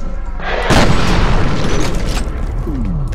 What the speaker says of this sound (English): I love a shotgun in this game